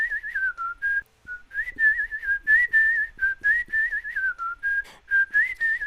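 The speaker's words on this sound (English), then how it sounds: "here's the whistling without the effects." A person whistles a melody with no effects added. The clear, bright tone runs in short phrases with brief gaps and stays close and steady throughout, with no talking.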